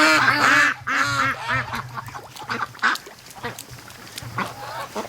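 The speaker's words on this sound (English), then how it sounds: "There's ducks absolutely everywhere" A crowd of free-range ducks gathered around rain puddles quack loudly and close in rapid overlapping runs at first, then thin into scattered quacks and calls, with no talking.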